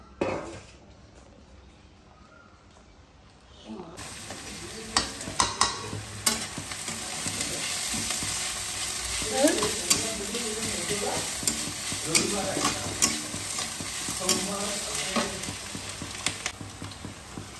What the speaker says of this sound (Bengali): এটা একটু ভাজা ভাজা হোক, গ্যাসের ফ্লেমটা হাই করে দিয়েছি